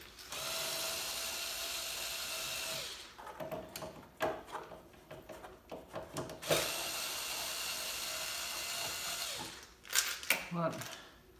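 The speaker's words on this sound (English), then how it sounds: "here's where we'll take these two screws out." Two headlight housing screws come out of a VW Jetta MK4 with a long whirring cordless-driver run, then clicks and rattles of parts being handled, and a second whir; quiet background speech is present.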